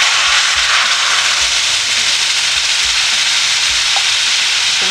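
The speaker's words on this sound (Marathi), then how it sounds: "बघा, आपल्या कढईमध्ये आपण आता हा पाक टाकणार आहोत गुळाचा।" Jaggery syrup poured into a hot kadhai for puffed rajgira halwa, giving a loud, steady broadband sizzle that holds evenly throughout with faint low clatter underneath, no voices.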